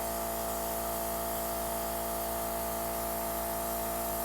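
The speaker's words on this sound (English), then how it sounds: "if you spray it on a tissue, it's not a lot of makeup that's coming out" A Temptu airbrush sprays makeup onto a tissue, a steady, even hiss of fine spray without a break, fairly quiet and close, with a faint mechanical hum underneath.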